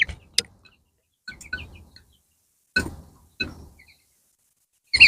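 Young chicks give short chirps and peeps, scattered in sparse bursts with quiet gaps between them, fairly close and with no talking over them.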